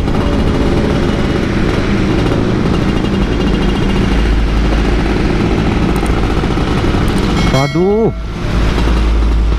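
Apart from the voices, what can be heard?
Yamaha F1ZR 2002 motorcycle engine while riding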